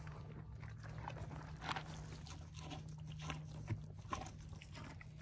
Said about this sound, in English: But Friday is eating, you can't tell